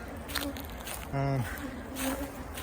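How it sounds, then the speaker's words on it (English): Honey bees buzz as they work their way out through bee escapes set before a hive entrance during an early spring honey harvest, with one loud close pass standing out over fainter scattered buzzing. "the bees seem to kind of work their way out"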